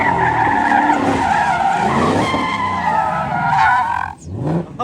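A car slides and drifts with long, loud tire squeals and skidding, with engine noise underneath, close by, ending in a brief pause and a final shorter squeal.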